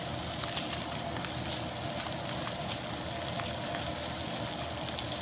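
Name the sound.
steak sizzling as it is flipped in a hot pan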